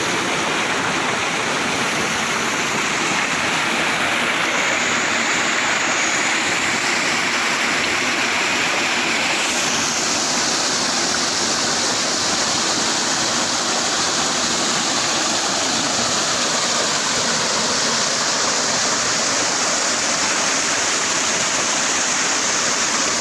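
Clear water flowing steadily through a village forest, a loud, continuous rushing and gurgling stream with no voices.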